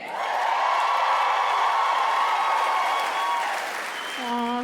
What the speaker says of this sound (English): Aw, thank you for cheering for that part.